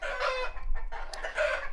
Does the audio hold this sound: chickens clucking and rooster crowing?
yes